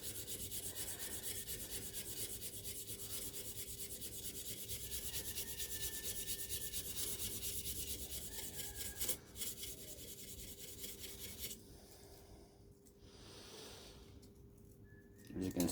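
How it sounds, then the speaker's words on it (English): Steady rasping rub of sandpaper worked by hand across a chef knife blade, continuous and close for most of the stretch, easing off near the end. "start sanding in the other direction"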